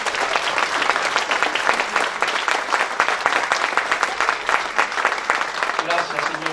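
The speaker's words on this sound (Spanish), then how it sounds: "Dale un aplauso al Señor Jesucristo." Continuous, lively clapping from a church congregation during a sermon, with a crowd-like texture and voices mixed in, holding steady throughout.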